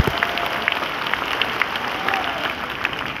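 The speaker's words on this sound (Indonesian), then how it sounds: "saya ajak saudara berikan tepuk tangan" Crowd at a NasDem party national working meeting clapping after a speech, a sustained roomy patter of many hands with a few sharper individual claps standing out.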